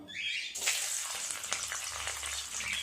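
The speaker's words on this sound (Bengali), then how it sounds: "ডিম আলু সব সুন্দর করে ভাজা করে নেব" Boiled eggs and potatoes, lightly scored, hit a small amount of hot oil for an egg curry and burst into loud, continuous close sizzling with crackling spatters, and no one speaks.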